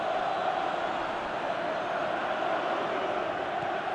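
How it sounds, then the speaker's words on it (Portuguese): Parma supporters in a stadium crowd in PES 2019 football, a dense continuous roar of cheering fans, steady and loud with a broad hiss of massed voices and no clear individual speech. "a torcida do Parma tá animada, hein?"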